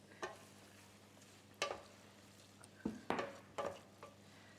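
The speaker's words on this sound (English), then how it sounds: "Add a little more pasta water to this." Pasta water splashed into a pan of spaghetti with mushrooms and kale, giving several short sizzling bursts with stirring scrapes between them, close and fairly quiet, with nobody talking.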